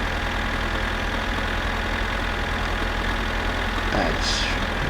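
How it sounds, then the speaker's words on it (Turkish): A tractor engine idles in the My Summer Car video game, a steady low rumbling drone at constant loudness filling the whole stretch, with a brief faint squeak near the end. "bu traktör daha fazla e, hızlı gitmiyor"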